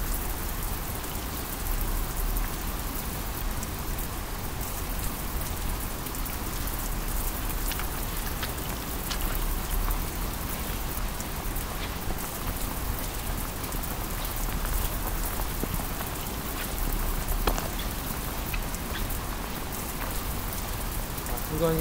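Heavy rain pours steadily over a wooded patch of trees, a dense continuous hiss of drops striking leaves and ground, close and even throughout with no voices.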